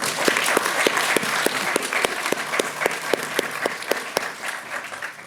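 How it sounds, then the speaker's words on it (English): A panel session audience at a museums and technology event claps in a steady, full round of applause lasting several seconds. It sounds fairly close and loud, with a few sharper individual claps standing out. "Can we have a round of applause?"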